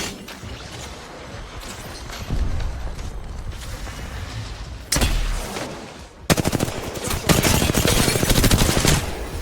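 Automatic gunfire from an Apex Legends match, with scattered shots early and then a dense, loud burst of rapid fire in the last few seconds, preceded by a sharp crack.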